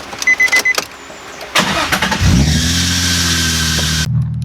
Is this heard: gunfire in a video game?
no